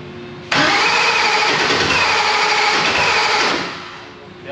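A $100,000 performance engine fires up for the first time with a sudden loud roar, then holds a steady, harsh, close idle before easing down slightly at the end.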